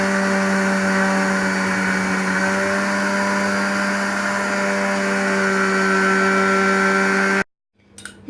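A blender or food processor grinds fried sesame seeds for tahini with a steady, loud whine close by, then cuts off abruptly near the end. No voices are heard.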